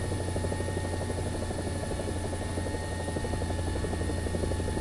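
A helicopter in the War Thunder simulator, its rotor and engine making a loud, constant, buzzing drone that holds steady without a break.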